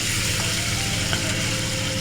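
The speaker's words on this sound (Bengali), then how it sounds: "তেল গরম হয়ে গেছে এখন দিয়ে দিচ্ছি মাছগুলো" Fish fry in hot cooking oil in a village kitchen, a loud, close, continuous sizzle that stays even throughout, with no voices.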